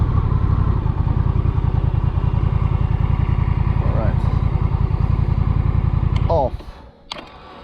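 A Honda CMX 1100 Rebel with Dual Clutch Transmission idles close by in a steady, loud, even throb, then cuts off abruptly near the end, leaving a few faint clicks.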